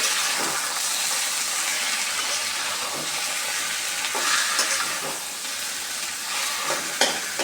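Malabar spinach and green chillies stir-fry in a hot pan, making a constant loud sizzle and hiss broken by soft scraping stirs, close by and free of speech.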